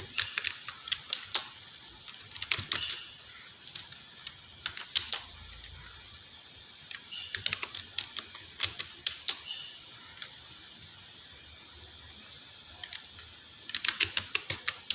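Employee names being typed on a computer keyboard into an Excel sheet: bursts of rapid, crisp key clicks separated by short pauses, close and clear with no voices.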